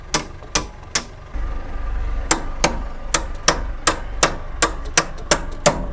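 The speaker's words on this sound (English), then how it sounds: "Or a hammer and a chisel." Sharp metallic hammer-and-chisel strikes on a Timberjack skidder engine ring out in a steady series, about a dozen evenly spaced blows, close and loud against a quiet background.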